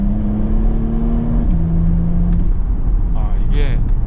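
A Porsche Panamera 4 Sport Turismo in Sport Plus mode pulls hard with a loud, steady engine drone whose pitch climbs and then drops at a gear change, heard close from inside the car with some voices.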